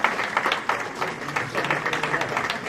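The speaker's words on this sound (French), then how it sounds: "Je pense que vous pouvez l'applaudir." Scattered, moderately loud applause from an audience at a French town medal ceremony honoring a former mayor, uneven clapping with faint crowd murmur.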